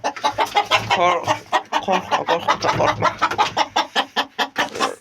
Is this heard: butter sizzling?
no